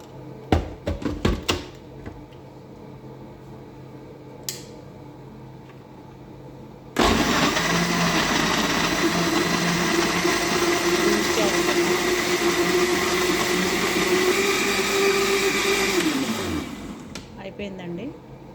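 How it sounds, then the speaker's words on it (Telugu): A kitchen mixer grinder blends milk with sugar, starting abruptly after some brief clatter and running as a steady loud whir for about ten seconds, then winding down and stopping. "దీన్ని నేను మిక్సీ పట్టేసి"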